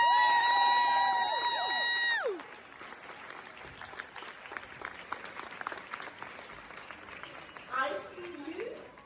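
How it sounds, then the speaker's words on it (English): Conference audience breaks into applause and cheering after loud music fades out, clapping continuing at moderate level with scattered whoops, and a brief musical sting returning near the end. "Stand up. Round of applause."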